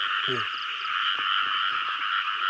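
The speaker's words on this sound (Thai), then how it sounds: "นี่กบตุ๊ผูเลยครับเด้อ" A tu-phu frog croaks from inside a trap, giving one sharp, close call followed by softer repeated croaks over a constant, loud insect drone.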